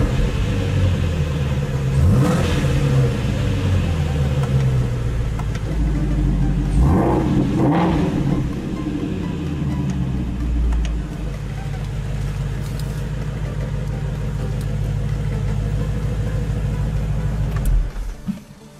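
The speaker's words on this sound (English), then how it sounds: "the active exhaust system here, where you have the normal mode and the sport mode, and just the way that it sounds, full revs" A car's engine revs hard through an active exhaust switched between normal and sport modes, a loud, close, rumbling exhaust note with several swelling rev sweeps early on, then a steady idle drone.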